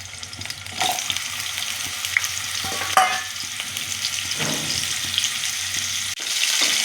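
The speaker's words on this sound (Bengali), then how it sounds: "প্রথমে তেল দিলাম, প্রথমে আলুগুলো ভাজতে দিচ্ছি।" Diced potatoes frying in oil in a pan for pea ghugni, a steady close sizzle with occasional scraping stirs of a spoon throughout, no talking.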